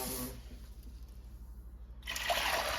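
Cold water pours over beans set to soak, a soft trickling splash that fades to quiet, then swells into a louder, brighter rush of pouring near the end.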